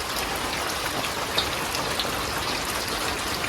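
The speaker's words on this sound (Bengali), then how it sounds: "আজকেও বৃষ্টি হইতেছে।" Steady rain falling in a rural village on a cloudy day, a dense, even patter with a few slightly louder drops landing nearby, heard alone without any voices.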